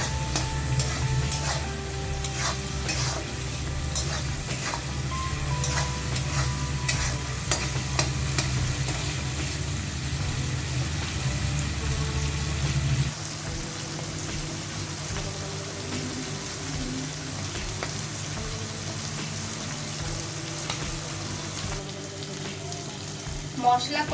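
Prawns and spices with chili powder being stirred and fried in a pan, a steady loud sizzle with scraping stir strokes throughout, the frying hiss dropping somewhat partway through as the mixing continues.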